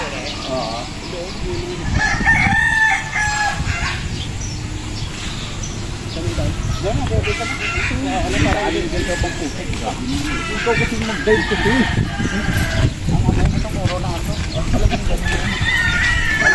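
Roosters crowing among NUDC stags and pullets kept for breeding on a farm, repeated crows and clucks over a steady noisy background with people talking throughout.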